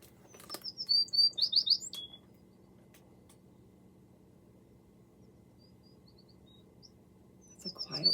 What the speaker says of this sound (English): American tree sparrow,